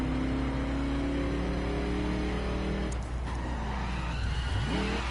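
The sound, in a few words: car driving in a video game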